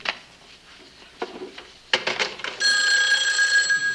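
A dialed call on a telephone in the sitcom Rhoda: a few clicks and knocks of dialing, then a loud, steady electronic ring tone that sounds close and carries on to the end, with no talking.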